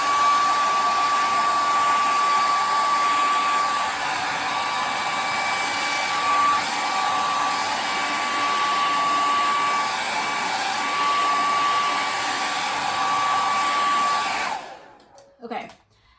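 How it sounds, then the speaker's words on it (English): Blow dryer drying paint during a painting class, a loud, steady whirring blast with a thin high whistle, running continuously for about fourteen seconds before it cuts off, followed by a few soft clicks and handling noises. "Now I'm gonna go back with my blow dryer"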